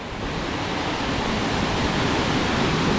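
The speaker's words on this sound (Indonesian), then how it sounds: "ini dia teman-teman penampaan air terjun Jumok di Desa Berjo" Jumog waterfall in Berjo village, Ngargoyoso, Karanganyar, Central Java, a steady broadband roar of falling water, loud and constant with no voices.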